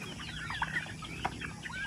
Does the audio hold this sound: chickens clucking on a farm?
yes